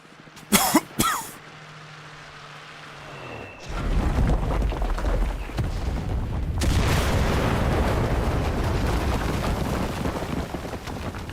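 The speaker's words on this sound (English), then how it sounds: "We need artillery support!" Artillery barrage in the World War II shooter game Enlisted: a couple of sharp close blasts, then a long heavy rumbling roar of distant shelling and explosions that swells and lingers without any talk.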